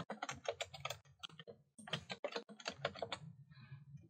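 A password is tapped out on a computer keyboard in quick, close, steady keystrokes, one short pause partway through, then a second burst of clicks.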